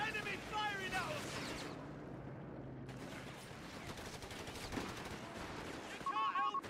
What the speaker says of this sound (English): Enemy firing at us!